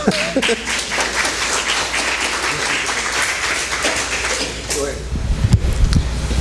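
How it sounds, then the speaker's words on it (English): Audience clapping at an American Legion meet-and-greet for state office candidates, a moderately loud spread of applause that thins out near the end as footsteps and shuffling come in, with some voices underneath. "y'all can clap if you're inclined to clap"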